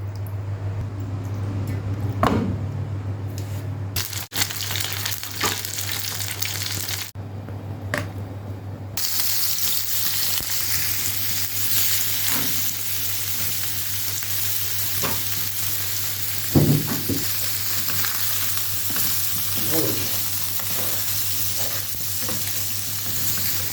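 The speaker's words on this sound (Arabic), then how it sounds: "دي لحمة الراس هتتشوح في حتة دهنة وشوية زيت." Head meat sautéing in a piece of fat and some oil, a loud continuous sizzle with scraping stir strokes and occasional knocks, a low steady hum underneath, a brief quieter gap early on.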